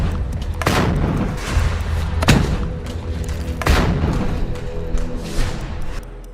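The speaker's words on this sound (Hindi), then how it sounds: "ताबड़तोड़ चलती ये गोलियां" Heavy gunfire and booming blasts in war-torn Gaza, several loud broadband cracks and thumps a few seconds apart over a constant rumbling din, no voices.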